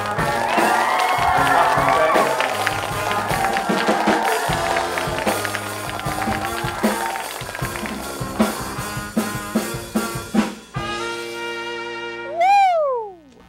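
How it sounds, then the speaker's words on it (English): A studio audience at a student show cheers, whoops and claps for the guest, loud and busy for about ten seconds before fading, with a rising sweep of sound near the end. "A big round of applause for Genesis Kabug."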